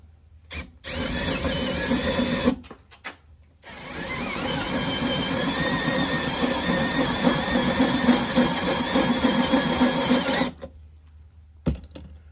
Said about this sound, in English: Put your drill on the low setting.